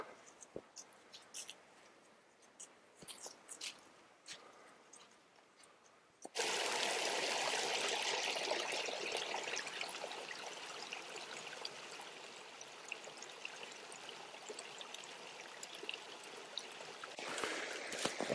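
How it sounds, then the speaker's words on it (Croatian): In a beech forest on Kamešnica mountain, after a few seconds of quiet with faint clicks, the steady rushing burble of a small stream starts up close and continues throughout. "Većim dijelom puta do sada prolazimo pored ovog potočića ili male rječice"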